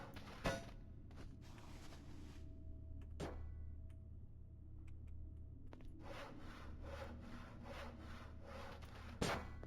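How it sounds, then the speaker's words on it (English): Hacksaw cutting through busted bed frames in the Voices of the Void video game: a scraping stroke early, then a quieter stretch, then a quick run of repeated rasping strokes with sharp clanks near the start and end. "Can I use the hacksaw on the bed frames? I can!"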